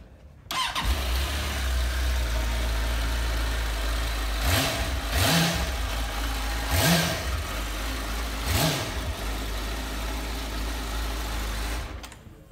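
A 2008 Suzuki GSF650SA Bandit motorcycle with ABS and 16,245 miles starts up and idles steadily and close by, and its engine rises and falls in a few light blips of the throttle before shutting off, with no talk.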